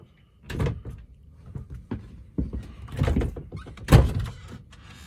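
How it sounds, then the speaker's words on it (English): Two-part folding door panel inside a 2005 Roadtrek 210 Class B motorhome, several close knocks, clicks and thuds as it is handled, one louder thump near the end, no talk. "This door here is a two-part door. This inner panel will fold out to fill this gap here"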